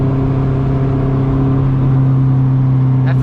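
A Honda CRX with a B17 engine pulls hard in second gear, its exhaust a loud, steady droning tone from inside the car that climbs slightly in pitch, with a brief high chirp near the end.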